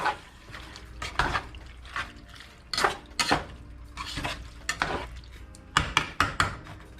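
Superbowl cheese dip with tomatoes and melting cheese given a quick stir, a utensil clinking and scraping against the pot in uneven strokes, close and fairly quiet, with a soft simmering bubble beneath.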